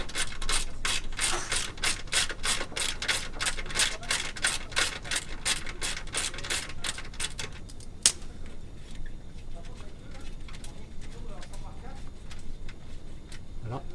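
Repeated metallic ratcheting clicks as the ground wire is loosened on the tow hitch wiring of a Fiat X250 camper van, steady rhythmic strokes for about eight seconds, then stopping, with quiet fumbling and someone speaking French nearby.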